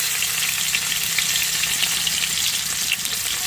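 Sliced onions frying in oil in a new wok give a loud, close, continuous sizzle with dense, even crackle throughout and no voices.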